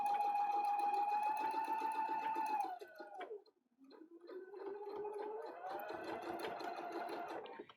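A sewing machine stitches through many thick layers of fabric while sealing the seams of a case, humming steadily at close range, slowing and pausing briefly partway through, then running again.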